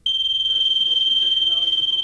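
A household smoke detector alarm sounds a loud, piercing, steady high-pitched tone for about two seconds, with only faint low sounds beneath it.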